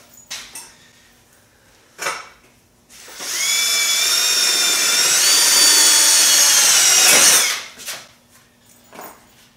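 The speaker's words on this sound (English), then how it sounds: "we got a hole drilled in this piece of metal" A hand drill bores a hole through a metal piece for a homemade Jeep kayak rack without a drill press, one loud steady whine of about four seconds between quieter clicks and handling knocks.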